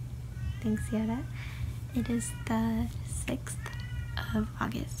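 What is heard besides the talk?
cat meowing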